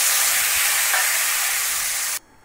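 Eggs fry in hot oil in a pan for egg biryani, a loud, steady close-up sizzle that cuts off abruptly near the end, leaving faint background hiss.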